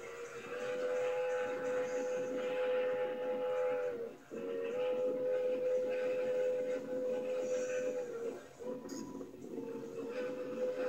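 K-36 class steam locomotive on the Cumbres & Toltec Scenic Railroad sounds a long, loud whistle in two sustained blasts over rumbling train noise, near and prominent.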